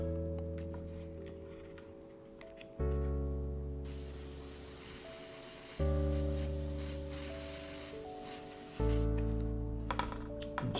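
An airbrush lays thin coats of paint on a wheel, giving bursts of soft airy hiss that start, stop and restart over steady low hum, close and fairly quiet, with no talking.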